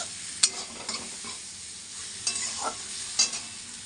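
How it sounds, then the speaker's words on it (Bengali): Potatoes cooked with masala in a kadai are stirred with a spoon, giving a soft sizzle under several sharp scrapes and clinks against the pan at uneven intervals. "একটু আলুটাকে একটু নাড়াচাড়া করে নিই"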